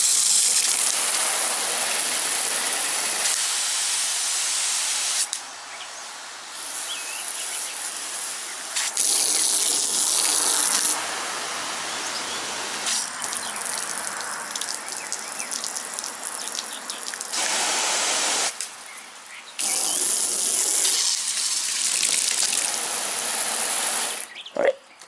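An expandable garden hose's nine-function nozzle sprays water, loud gushing and hissing that switches abruptly between patterns, including a softer soaker flow, with brief clicks and pauses between settings.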